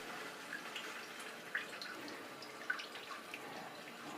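A TOTO replacement fill valve refills a toilet tank, giving a faint, steady hiss of running water with a few soft drips and trickles, heard alone at close range.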